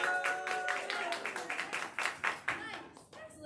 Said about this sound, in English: Clap your hands if you've been up versus before.